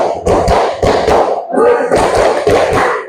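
A standing school class claps a 1, 2, 3 pattern together, producing loud, close, thudding hand claps in short groups, with voices mixed in.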